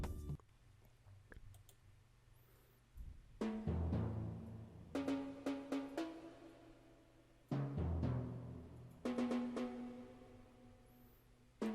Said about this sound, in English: so next up we have this timpani sound that was introduced also when the log drum